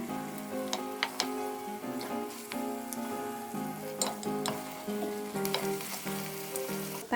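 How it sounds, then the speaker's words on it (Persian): Meat and onions sauté in oil for an aubergine stew, a soft, steady sizzle dotted with sharp crackles and occasional stirring clicks, fairly quiet and close. "بهش گوشت رو اضافه میکنم و همراه پیاز تفت میدم تا رنگ گوشت تغییر کنه"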